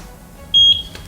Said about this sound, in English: So once you guys hear the beep,